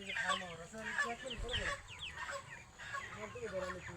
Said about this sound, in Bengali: দেখেন আমাদের মুরগি ধরে কাজ চলছে, সকলে মিলে মুরগি দেখতেছি।